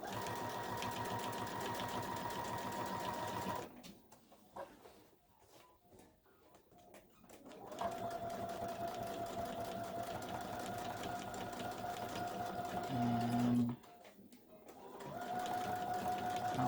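A sewing machine on a weightless quilter stitches in steady running bursts, broken by two short pauses, with a constant close mechanical hum and whir throughout.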